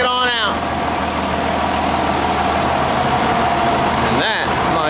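A loud John Deere 7410 tractor diesel engine idles steadily throughout as it backs out, with a voice speaking briefly at the start and again near the end.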